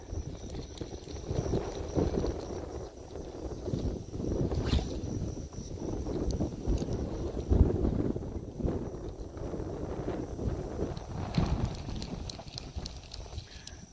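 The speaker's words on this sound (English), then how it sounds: "Oh, you heard the wind? Yeah. Oh, it's blowing." Wind gusts over a lake, a rushing, buffeting roar striking the microphone in uneven surges, with water and boat knocks mixed in and no talking.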